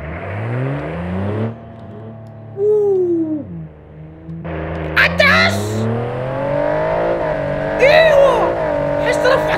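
A sporty car in BeamNG.drive revs hard, its engine pitch climbing through gears, dropping, then winding up again with short tire squeals near the end. The engine is loud and close, and someone talks briefly over it.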